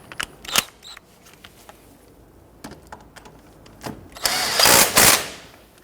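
A tie rod end nut on a 1992-1996 Toyota Camry front strut is tightened, with scattered sharp clicks and taps, then a short burst of rapid, harsh tool noise near the end, close and with no talking.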